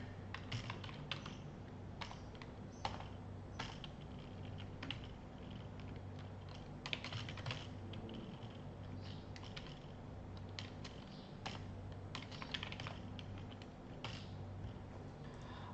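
Steady typing on a computer keyboard while a name is entered, with continuous close key clicks in irregular bursts over a low background hum, and no speech.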